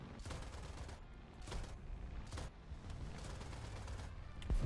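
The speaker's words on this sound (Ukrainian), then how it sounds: "Бо мені там ще зенітка стріляє." Repeated bursts of heavy anti-aircraft gunfire in War Thunder, in quick volleys, booming and sharp, with a steady rumbling din underneath throughout.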